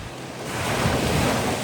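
Sea waves wash in on a crowded beach in a loud, steady surge that swells toward the middle, with wind buffeting the microphone.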